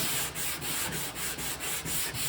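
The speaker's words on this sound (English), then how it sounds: "then do kind of a crisscross, kind of a sanding motion, like so." Sandpaper rubs by hand in a crisscross motion over a 1965 Mercury Comet Cyclone body panel in steady, even strokes, close and continuous with a regular scratching rhythm.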